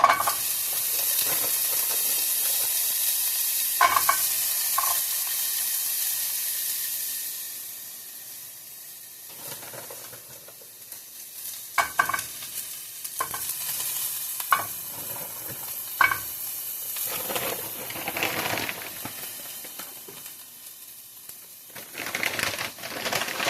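Breakfast frying in a hot skillet keeps up a continuous sizzle, with scattered clinks and scrapes of a utensil stirring. The sizzle fades partway through and then builds again, close by with no talking.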